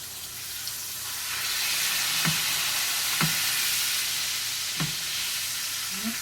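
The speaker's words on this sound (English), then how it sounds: "me standing here frying pork loin chops" Steady sizzling hiss of pounded pork loin chops frying in a pan, with a few soft clinks and scrapes in between; no one speaks.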